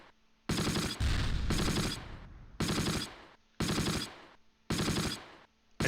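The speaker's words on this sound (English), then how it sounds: "I swear they saw something and they were shooting." Automatic weapon fire in the WWII strategy game Close Combat, set at Barenton in August 1944: five loud, sustained bursts of rapid gunfire, each cutting off sharply and separated by short quiet gaps.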